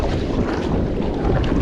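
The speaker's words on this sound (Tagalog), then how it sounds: "malakas ang hangin" Strong wind rushing over open water while kayaking, a steady broadband roar and buffeting across the whole clip with no voices.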